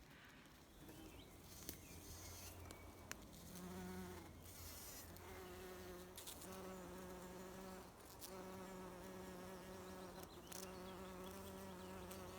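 Bees buzz around pink flowering plants outdoors in a Welsh forest setting, several overlapping close drones rising and fading as individual insects come and go, with faint birdsong in the background.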